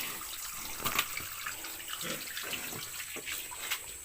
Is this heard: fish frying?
no